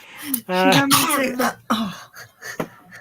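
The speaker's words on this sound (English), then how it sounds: "The two of you just coughing all over each other." A voice breaks into a strained, raspy throat-clearing cough, followed by a few shorter coughs and vocal sounds close to the microphone.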